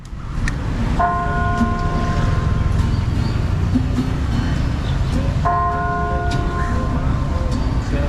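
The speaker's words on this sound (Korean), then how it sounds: "종소리 들리시죠" Church bell tolling at Dutch Square in Malacca: two resonant strikes ring out several seconds apart, each sustaining and fading over busy outdoor ambience and distant murmur.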